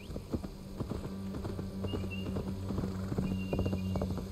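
A horse gallops in the video game Assassin's Creed Valhalla, with quick rhythmic hoofbeats over a steady low hum, fairly faint and with no talk.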